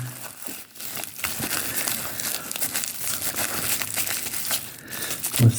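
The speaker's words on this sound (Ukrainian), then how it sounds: "ось ці монетки, жетончики будемо загортати в паперчату клейонку" Paper-backed oilcloth crinkles and crumples continuously as coins and tokens are wrapped for mailing, close up and fairly loud, with no voices.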